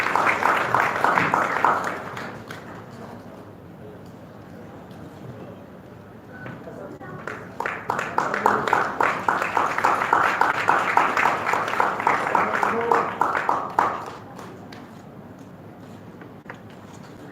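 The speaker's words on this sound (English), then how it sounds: "People, please a bigger round of applause for all the awardees who are coming up here" An award-ceremony audience claps for honorees walking up to the stage, a dense crowd applause that swells, fades briefly, then rises again into a long sustained round.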